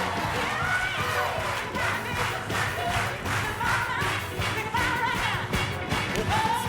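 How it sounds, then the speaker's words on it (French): Studio audience at a French game show applauding a contestant, a steady dense wash of clapping and crowd noise sustained loudly throughout. "Applaudissons-le."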